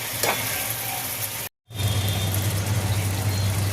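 Chicken kasha sizzles and fries steadily in a pan as it is stirred, a dense continuous crackle with a low hum beneath, broken by a brief moment of silence midway, with no talking.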